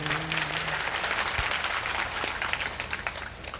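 Enthusiastic clapping from an audience at a satsang spiritual gathering, dense and continuous hand claps filling the room at steady loudness throughout.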